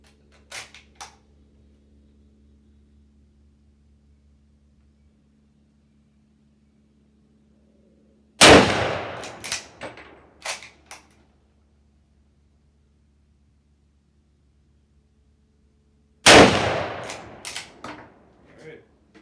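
A Lee-Enfield rifle fires .303 British ammunition outdoors, two sharp, loud shots about eight seconds apart, each followed by a brief echoing tail. Quiet stretches and faint background sounds fill the gaps.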